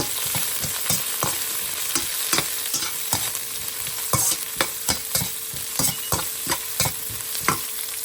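Onion frying in a pan, a steady loud sizzle with repeated scraping and clattering strokes as it is stirred, no voices.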